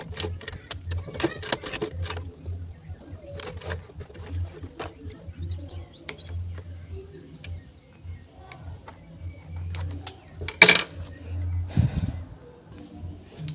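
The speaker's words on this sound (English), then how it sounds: "I'm going to back stitch." A sewing machine back stitches on a beginner's bag, with short bursts of stitching, a low motor hum and light clicks. Several louder knocks and rustles come near the end, no talking.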